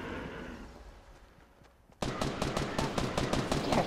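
Fortnite gunfire: after a fading rumble, a loud burst of rapid automatic shots breaks out and keeps going close by, with no talk.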